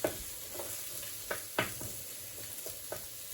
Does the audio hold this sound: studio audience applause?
no